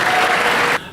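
Audience at a Comic-Con Batman and Harley Quinn panel applauding, a dense burst of clapping that cuts off abruptly near the end, loud and close.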